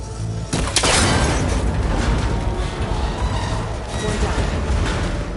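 A gunshot breaks a cable connector in the video game Horizon Forbidden West: a sharp loud burst followed by a rumbling, clattering collapse that fades gradually, with a dense, mechanical background throughout.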